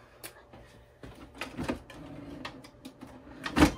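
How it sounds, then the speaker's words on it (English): Plastic clicks and thumps of a printer cover being pushed shut after a paper jam is cleared, ending in one louder snap as the lever locks into place, close by with faint handling noise before it. "So then what you want to do is put your cover back on."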